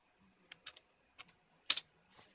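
Typing on the keyboard of an old Pentium MMX laptop: a few sparse, close plastic key clicks in small bursts with quiet gaps between them.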